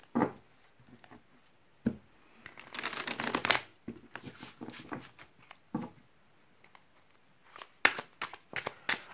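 Oracle cards are shuffled by hand for a tarot-style reading, in several close, crisp riffling bursts separated by short pauses and soft card-handling taps.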